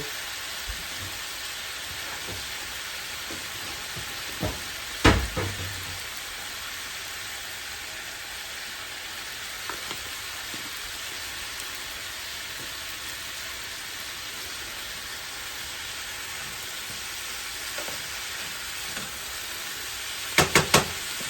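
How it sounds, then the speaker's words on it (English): Stew beef frying in a pot while being stirred, giving a faint, steady sizzling hiss throughout with a few soft scrapes and clinks. "Just stir that around."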